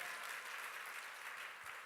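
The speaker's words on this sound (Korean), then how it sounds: "박수로." Church congregation clapping together during a Korean sermon, a steady, dense round of applause filling the sanctuary for about two seconds with no voices over it.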